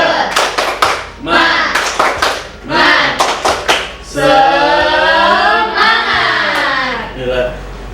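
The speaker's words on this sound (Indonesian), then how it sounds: "ayo kita bilang tepuk semangat." A classroom of children performs the 'tepuk semangat' rhythmic clapping routine, bursts of sharp claps alternating with chanted voices, then sustained group shouting, loud and close.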